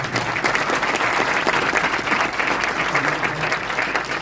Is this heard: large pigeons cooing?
no